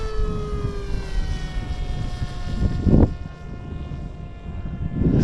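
An RC Giant Wing 1200mm electric plane on a 4S battery makes a pass, its high propeller whine sliding in pitch as it sweeps by with a louder swell midway, over outdoor wind noise.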